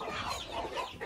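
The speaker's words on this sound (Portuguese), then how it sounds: "Aqui temos uma galinha de pintinho e uns outros pintinhos maiores ali atrás." A hen with chicks clucks in a backyard flock on a farm, soft overlapping clucks and peeps that run continuously and fairly close for about a second.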